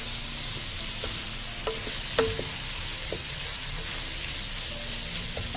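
Dry mixed-vegetable masala filling for kachori being stirred in a pan, with a steady soft sizzle and occasional light scraping taps of the spoon, close and alone without talk.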